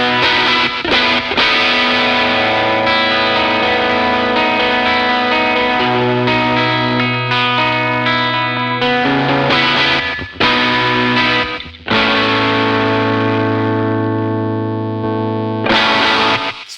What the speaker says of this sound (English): this like rockier kind of overdrive distortion sound that I have